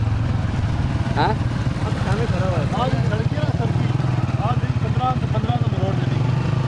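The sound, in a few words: motorcycle riding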